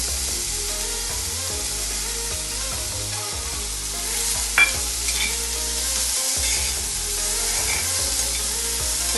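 Chickpeas and onions sizzling and frying in a pan while being stirred for a Kerala-style vegetable stew, a steady loud sizzle with scraping stir strokes throughout, no talking.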